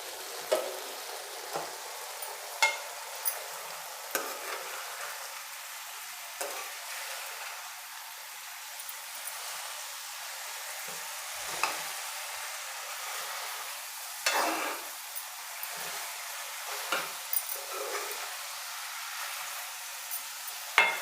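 Cauliflower florets, already roasted in oil, cook with water, salt and chilli in a covered pan, giving a soft, steady sizzle with occasional faint clinks and light bubbling pops throughout.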